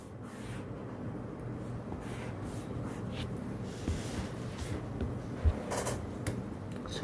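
Pen shading in a diagram during a middle-school math lesson on solid volume, a steady soft scratchy scribbling texture that runs continuously and close, fairly quiet, with no talking over it.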